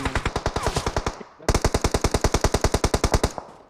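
Automatic gunfire in the mobile battle game PUBG Mobile during a final-circle fight: two long, fast bursts of loud, evenly spaced shots separated by a brief pause, with no talking over them.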